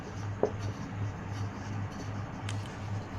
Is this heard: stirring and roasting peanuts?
no